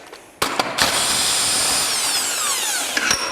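Power tool spinning a 21 mm socket to remove a bolt on a Polaris belt washer install, a short whirring burst after a few clicks, loud and close, with no talk.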